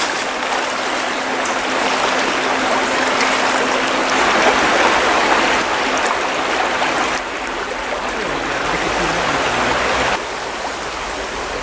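A small stream in central Pennsylvania rushes steadily in close, a loud continuous watery hiss and babble filling the whole stretch with slight shifts in intensity and no voices.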